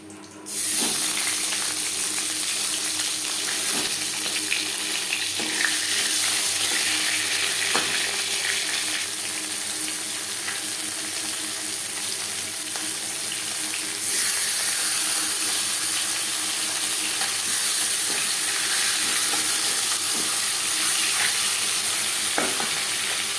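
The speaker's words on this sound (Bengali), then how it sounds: "পরের মাছও মাথা একইভাবে ভেজে নেব।" A silver carp fish head fries in oil in a pan, a loud, steady close sizzle lasting throughout, with occasional clinks and scrapes from stirring.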